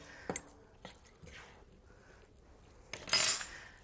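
A metal spoon scraping and tapping inside a narrow cayenne pepper bottle, a few faint clinks followed by a brighter rattling scrape near the end, close but quiet.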